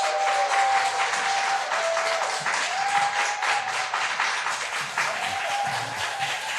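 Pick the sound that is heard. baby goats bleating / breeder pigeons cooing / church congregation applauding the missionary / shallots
church congregation applauding the missionary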